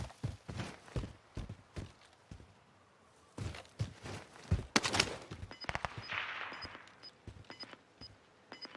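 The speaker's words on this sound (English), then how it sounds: "hearing shots go off in another direction" Scattered gunfire crackles in Warzone Pacific, a string of sharp shots and short bursts sounding from another direction, some faint and some punchier, mixed with footstep-like thuds and rustling game ambience.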